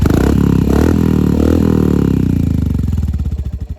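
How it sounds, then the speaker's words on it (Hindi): A modified Royal Enfield Hunter 350 revs hard and close with a loud, throaty roar, then drops back toward a pulsing, rhythmic idle as the throttle closes. "आइडल और ये है एक्सीलेटर लेने वाला।"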